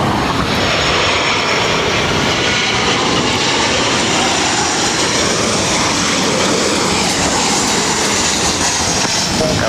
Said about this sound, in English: This is Southwest Airlines 1460 coming in from Oakland on a 737-700.